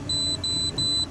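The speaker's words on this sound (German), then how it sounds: "der Rauchmelder." A smoke detector mounted in a Mercedes-Benz truck cab sounds three close, loud electronic beeps in a steady rhythm, each roughly a quarter second long, over a low hum.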